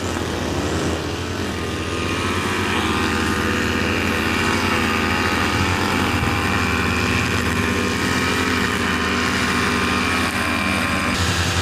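A grass cutter trims grass with a steady high-pitched engine whine and buzzing cutting line, loud and continuous throughout, no voices.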